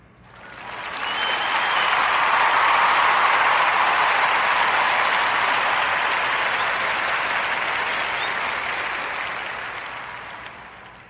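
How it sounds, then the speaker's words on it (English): A warm round of audience applause for a guest swells in from quiet, stays full and steady for about ten seconds as a broad wash of clapping, then gently fades, with no talking over it. "Let's give a warm narrative podcast round of applause to our sister, Chrissy Rutherford."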